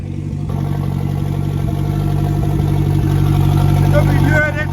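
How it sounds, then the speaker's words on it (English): A Ford Fiesta RS Turbo engine runs at a steady idle, a low even hum close by, with a voice talking over it before the sound cuts off near the end. "as you can hear, the car is running."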